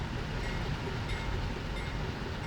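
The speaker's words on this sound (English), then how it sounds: "I'm just gonna wait for the train to get here." A train arriving in a railway driving video game: a dense, steady rumble of rolling wheels and engine noise with faint clanks, continuous and fairly loud throughout.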